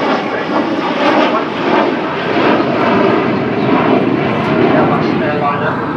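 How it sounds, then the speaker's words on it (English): A delta-wing Avro Vulcan B.2 bomber, XH558, flies a display at the Farnborough International Airshow, its engines giving a loud, continuous broadband roar that swells and fades slightly throughout. "There's that great lovely flying"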